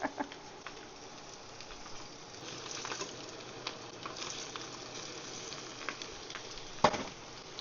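Herring deep frying in a small pan of hot oil give a steady, close crackling sizzle with scattered pops, running on alone without voices.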